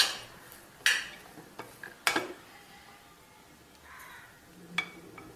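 Sweet coconut modak filling stirred in a pan, with a few sharp scrapes and clinks of the spoon against the pan over a quiet, soft background.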